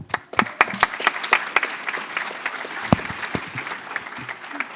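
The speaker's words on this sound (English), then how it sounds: "Let's give another round of applause." Applause from the audience at a college graduation ceremony, with close sharp individual claps over a denser wash of clapping from the crowd, lasting several seconds at an uneven rhythm.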